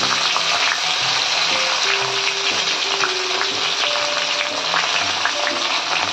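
Red chillies and onion frying in hot oil, a steady, dense sizzle that holds at an even level throughout, close by with no talk over it.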